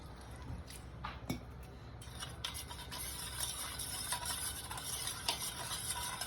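Chicken marinade thinned with water being stirred in a bowl, a soft, continuous wet swishing and squishing close by, fairly quiet, with no talking.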